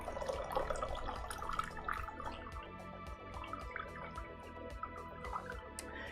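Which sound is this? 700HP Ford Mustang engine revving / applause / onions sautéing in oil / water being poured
water being poured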